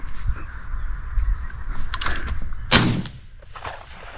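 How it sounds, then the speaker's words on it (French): A shotgun fires during a crow hunt outdoors, a sharp loud blast standing out against a background of rustling and distant movement, followed by quieter ambient sound and faint bird calls. "Très très beau coup de fusil, ça."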